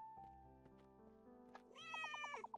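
A cartoonish video game cat lets out a clear, rising meow near the end, over soft, sustained background music in the life-sim game Cattails Wildwood Story.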